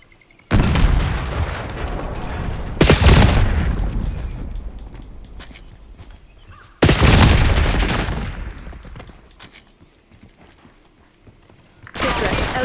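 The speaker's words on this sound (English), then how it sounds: "Semtex out." Semtex grenade blasts in Black Ops 6, several loud, close booms with long rumbling tails, spaced apart amid gunfire and battle noise.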